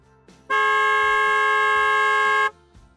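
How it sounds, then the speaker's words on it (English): A single car horn blares for about two seconds in city traffic, steady and loud from close range inside the car, with faint road noise around it. "apologies for sounding my horn"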